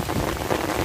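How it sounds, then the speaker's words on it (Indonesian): Steady rain falling outdoors at a fishing spot, a dense continuous patter of drops with a low rumble of thunder mixed underneath, even and unbroken throughout. "karena hujan campur geluduk lur"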